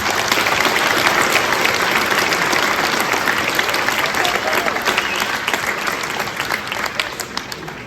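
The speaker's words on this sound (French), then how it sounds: "Il mérite quelques applaudissements à mon avis." Sustained applause from an audience at a town New Year's greetings ceremony in Longpont-sur-Orge, many hands clapping loud and steady, then gradually thinning out toward the end.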